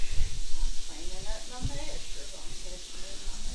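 Southern fried chicken sizzles in hot oil with a steady, close, broadband hiss, while a voice speaks briefly over the frying.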